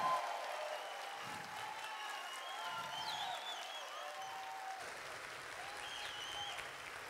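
An audience at a Spiritist congress musical claps for a young string group, a steady, moderately distant wash of applause heard under lingering musical tones and a few faint voices.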